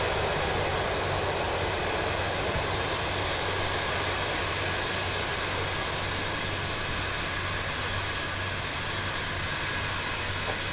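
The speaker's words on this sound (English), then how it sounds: "Someone's in a loud jet." A loud jet aircraft in Microsoft Flight Simulator 2024 roars steadily throughout, a dense, continuous engine noise with a broad hiss and low hum that never fades, heard alone with no talking.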